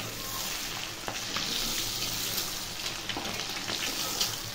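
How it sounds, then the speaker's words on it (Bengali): Eggs fry in a pan of hot oil for egg curry, giving a steady, close sizzle with occasional brief crackles and spatters and no voices. "ডিম ভাজা হয়ে গেছে"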